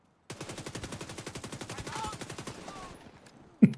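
A fast, even burst of automatic gunfire in a video game rattles off roughly thirty rounds in about two and a half seconds, then stops, followed by a couple of louder thumps.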